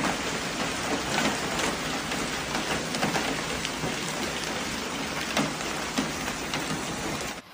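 Hailstorm with heavy rain over Paris streets, a dense steady hiss of pouring rain with scattered sharper impacts of hail, loud and continuous with no voices.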